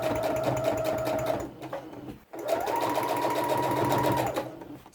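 A sewing machine stitches through paper pages of an art notebook, two close runs of steady rapid whirring and needle chatter separated by a brief pause.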